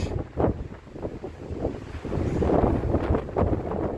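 Gusty wind buffets the microphone outdoors in rough, uneven blasts, swelling louder in the second half, with no talking.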